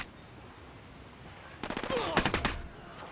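Automatic gunfire in the video game Ghost Recon Wildlands, a loud close burst of rapid shots starting after a quiet moment and rattling on for over a second.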